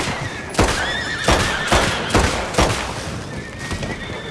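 A horse whinnies loudly over a busy, noisy soundscape in the video game Red Dead Redemption 2, with repeated sharp bursts that could be hooves or gunfire.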